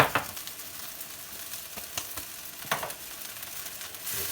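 Mushroom sauce for pasta, seasoned with salt and pepper, frying and sizzling in a pan, a steady hiss broken by a few sharp crackles and scraping stirs, close up with no talking.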